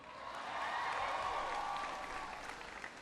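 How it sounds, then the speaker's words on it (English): Audience applause at an Obama speech on education and the economy, a wash of many hands clapping that swells quickly, holds steady, then tapers slightly, moderately loud with no speech over it. "Give Brian a big round of applause for the introduction."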